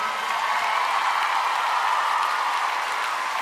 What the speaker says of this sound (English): Big round of applause for Matt